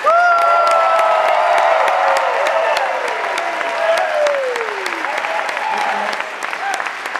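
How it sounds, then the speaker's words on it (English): A large audience at a live talk erupts in loud, sustained applause mixed with cheering and whoops, dense clapping filling the whole stretch with some shouted voices rising above it. "I want you to give the most hand-callousing, hell-raising, ear-splitting round of applause that this guy's ever heard"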